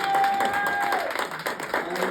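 A church-style crowd gathered in a pub claps together, a dense, steady patter of hands filling the room, with voices mixed in underneath and a faint sustained tone fading early on.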